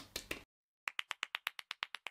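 About ten crisp, evenly spaced hand claps close to the microphone, following a brief burst of other noise and a short silence, with no cheering voices.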